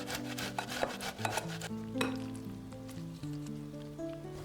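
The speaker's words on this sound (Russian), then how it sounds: "Остальную свеклу натираем на терке." Beetroot rubbed against a metal grater gives quick, rasping scrapes in an uneven rhythm, close and fairly soft, over a steady musical background with no talk.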